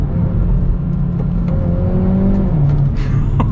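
A Hyundai Veloster N engine pulls hard under acceleration, a steady loud drone from inside the car with rising engine tones that climb and then drop back as it shifts.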